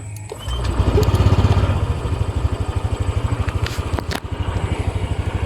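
A Honda Click 125i scooter engine runs steadily with a fast, even pulsing throb, close and loud, the revs rising briefly near the start before settling into a smooth idle-like beat; no one speaks.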